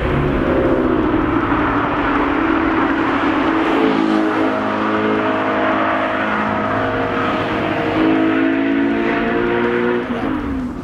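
Audi 4.2 liter naturally aspirated V8 with aluminum construction, a steady sustained drone heard from inside while cruising on an open autumn road, holding a constant tone with slight pitch shifts throughout and no speech.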